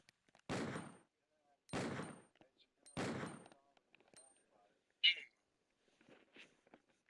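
A .50 AE pistol fires three loud, evenly spaced single shots in the Resident Evil 2 video game, each with a short sharp decay, followed by quieter clicks and a brief metallic ping, with no voices.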